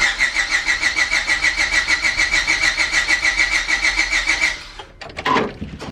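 A project car's engine turns over on its first start after about two months of repair work: rhythmic, even cranking pulses for roughly four seconds, then the cranking stops and a brief clatter follows.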